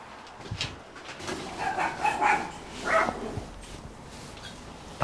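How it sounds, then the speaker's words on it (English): A dog barks a few times at a distance in short, uneven bursts, fairly faint against a quiet workshop background. "I hate that fucking dog."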